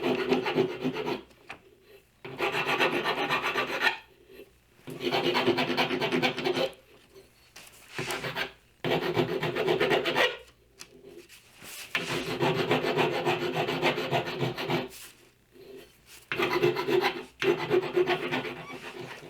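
A hand file rasps back and forth on aluminum in repeated bursts of a few seconds each, separated by short pauses, close and fairly loud with no talking.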